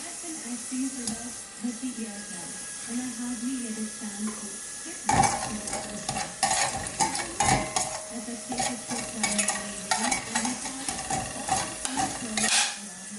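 Bombay potatoes sizzle and crackle in a pan with a steady hiss, punctuated by scraping and clinking of a utensil stirring against the pan.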